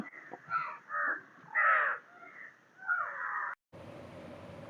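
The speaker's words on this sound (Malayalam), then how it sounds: "ഏറ്റവും കൂടുതൽ കാക്കയുടെ സൗണ്ട് മാത്രമേ ഇവിടെ കേൾക്കാനുള്ളൂ" Several crows caw loudly in repeated harsh bursts, close by, followed by a steady background hiss.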